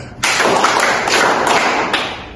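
Students in a classroom rhythm game clap as a group. A sharp onset leads into a sustained burst of close, loud clapping lasting about two seconds, with a few brighter accented claps spaced through it.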